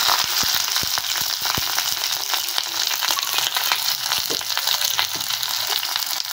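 Chopped onions fry in oil with dried red chillies, bay leaves and torn cardamom for a chicken curry, giving a loud, steady sizzle close by with scattered sharp crackles and pops throughout, no voices.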